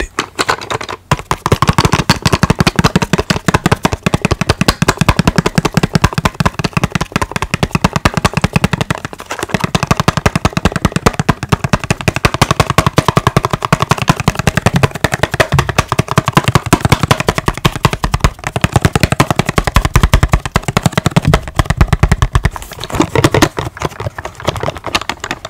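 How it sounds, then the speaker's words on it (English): Bullets are handled and tapped close to the microphone for ASMR, making a dense, rapid stream of sharp clicks and metallic rattles that continues nearly nonstop at a loud level. "I got a comment down below saying that y'all like the bullet sounds"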